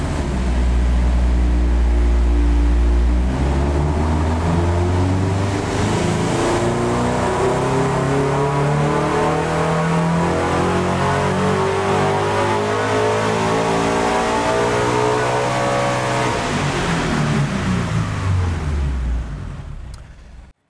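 A car engine runs hard and loud on a dyno, revving up through rising pitches, then winding down steadily toward the end, with no talking.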